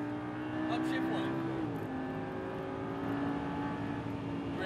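An exotic sports car accelerates on a race track, its engine tone climbing steadily with a gear shift partway through, heard from inside the car under a moderate level of noise.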